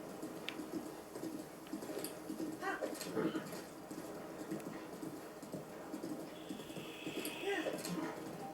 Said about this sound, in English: So for now, just let the horse do the work,